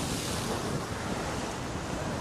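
Strong wind and surf on the beachfront in Fortaleza, Ceará, a loud, continuous roar of gusts buffeting the microphone over breaking waves, with no talking.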